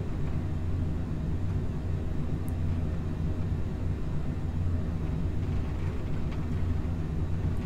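Eurofighter Typhoon jet in Microsoft Flight Simulator 2020, a steady low rumbling engine drone that stays even and continuous throughout, with no talking.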